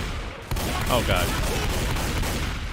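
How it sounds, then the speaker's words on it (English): Rapid gunfire, including point-blank shotgun blasts, in the zombie shooter Left 4 Dead 2, forming a dense, loud burst of shots that fills the whole moment with overlapping game noise. "Shot Nick a couple times there, point blank."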